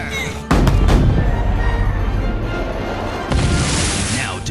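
Ship cannons fire in two heavy booms, the first near the start and a second later on, each followed by a rumbling roar, loud and close.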